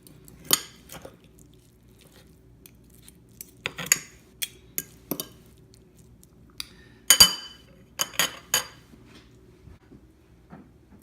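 Canned venison being broken up and shredded for barbecue, giving scattered close clinks and scrapes of a utensil against a jar or dish, separated by quiet gaps.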